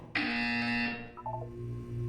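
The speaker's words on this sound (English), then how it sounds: "You will hear a buzzer." A loud, buzzy electronic buzzer from the Portal 2 video game sounds for under a second, followed by a short run of softer beeping tones over a low hum.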